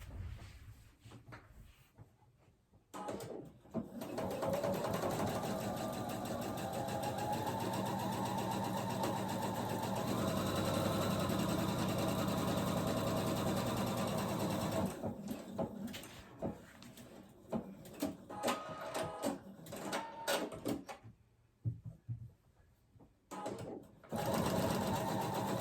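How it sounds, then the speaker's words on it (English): A sewing machine stitching an outside curve on a fabric face mask, running in long steady whirring stretches broken by short pauses and stop-start bursts, loud and close, with brief handling noises in the gaps. "And now I'm going to sew on this outside curve."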